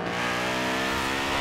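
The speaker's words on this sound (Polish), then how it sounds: "To jest standardowy silnik w tym Audi." An Audi's standard engine revs in the racing game Forza Horizon 4, a brief, even, droning roar with a strong harmonic tone and no voices.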